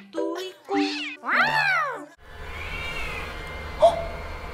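A voice imitates a cat with a few drawn-out, rising and falling meows, close and clear, followed by a brief background murmur and a short squeak.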